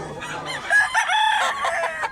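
A big, low-legged gamefowl rooster gives one loud crow close by, the call rising and wavering before trailing off.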